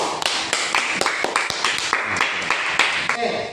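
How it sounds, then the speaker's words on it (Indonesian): Classroom applause during a lesson, a quick run of sharp, close hand claps at an irregular, lively rhythm, sounding like a small group. "Ya, tepuk tangan untuk semuanya."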